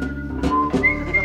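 A whistled melody, with clear sustained notes and a few breathy gaps between phrases, is close and alone.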